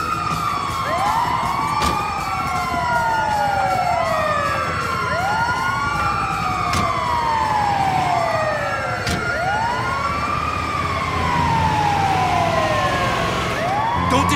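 Several wailing ambulance sirens in Grand Theft Auto V rise and fall in overlapping sweeps, loud and continuous, with sharp bangs cutting through now and then.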